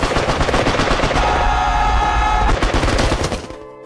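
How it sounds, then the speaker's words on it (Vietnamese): Heavy machine gun fire from a World War I battle scene in the film War Horse, a loud, rapid continuous burst of shots that thins out and stops near the end. "Một loạt máy bắn súng hạng nặng đang nhắm về phía họ."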